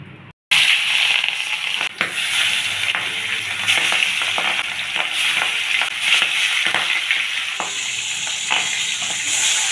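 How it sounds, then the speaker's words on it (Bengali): Pangas fish sizzling as it goes into hot oil in a wok, a loud, steady frying crackle after a brief quiet start, with occasional sharper spits and pops throughout. "তো কড়াইতে তেল দিয়ে দিয়েছি, তেল বেশ গরমও হয়ে গেছে। এবার আমি মাছগুলো একে একে ভেজে নেব।"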